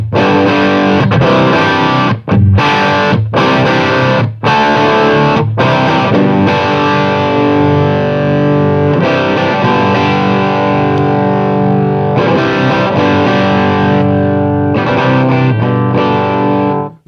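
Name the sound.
electric guitar through 1966 Fender Bandmaster amp, both channels together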